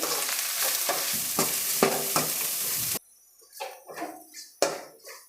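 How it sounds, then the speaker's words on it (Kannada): Bitter gourd pieces frying in a pan, a loud steady sizzle broken by several stirring scrapes, then a sudden drop to quieter sizzling with scattered clinks of the spatula. "ಅದೇ ಬಾಣಲಿಗೆ ಮತ್ತು ಹಾಗಲಕಾಯಿನ ಈ ಥರ ಇಟ್ಕೊಂಡಿದ್ದೀನಲ್ಲ ಇದನ್ನು ಫ್ರೈ ಮಾಡ್ಕೊಳ್ತೀನಿ"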